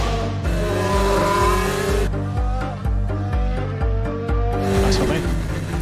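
McLaren Formula 1 race cars rush past at speed, engine notes sweeping and pitching down as each car passes. Rapid gear changes are audible, and a commentator talks over the sound throughout.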